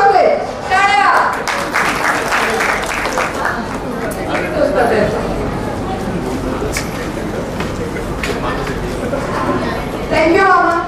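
Applause from a small family gathering at a welcome event, with bursts of clapping mixed with children's voices and chatter throughout, fairly loud and close.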